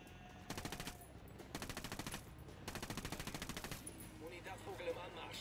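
Gunfire from an LVOA rifle in a video game: two long rapid automatic bursts at a steady rhythm, close and fairly loud, followed by a softer tail.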